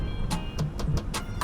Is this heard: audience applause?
no